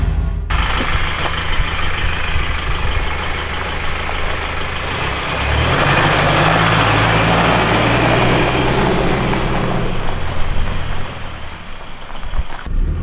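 Cummins R2.8 diesel in an FZJ80 Land Cruiser with an eight-speed automatic, heard from inside as it pulls away on the road, a loud continuous engine drone that rises in pitch as it accelerates and then settles.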